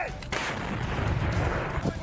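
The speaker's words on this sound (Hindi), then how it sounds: "इस वीडियो में रूसी सेना 2S7 माल्का नाम की इस तोप का इस्तेमाल करती दिखाई दे रही है।" A 2S7 Malka self-propelled howitzer fires one thunderous blast, followed by a rolling, rumbling echo that lingers for a couple of seconds.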